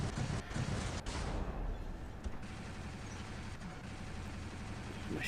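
Robot weapons firing in the War Robots video game, a dense continuous barrage of gunfire and explosive thuds lasting several seconds, loud and close with no talk.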